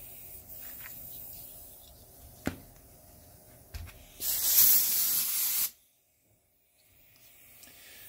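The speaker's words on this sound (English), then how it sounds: "let me go get the air compressor set up" Air compressor nozzle blasting air into the cooling fans of a BenQ HT2050 projector during a teardown cleaning: one loud, steady hissing burst of about a second and a half, preceded by a few small clicks and followed by near silence.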